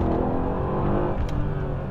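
Mercedes C63 S Coupe engine running in sport mode, a deep continuous rumble heard from inside the car, steady and fairly loud with slight swells but no sharp revving peaks.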